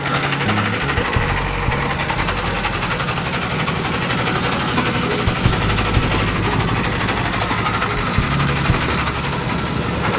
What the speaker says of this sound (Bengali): নৌকায় স্টার দিয়ে দেওয়া হলো